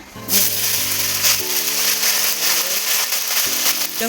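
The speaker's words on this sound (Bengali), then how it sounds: "এবার আমি তেলের মধ্যে পটলটা" Pointed gourd frying in hot oil gives a loud, steady sizzling hiss that flares sharply at the start and continues throughout, with a low droning hum running underneath.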